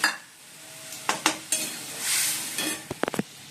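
Dal goes into a hot pan of sizzling tempering of dried chili, cumin and onion, with a few sharp clanks and scrapes of a utensil against the pot over a soft, continuous sizzle, close up and with no voices.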